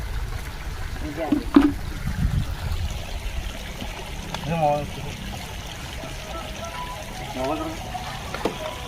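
Water poured over a motorbike during an outdoor wash, a steady trickling and splashing stream running close by beneath several voices talking.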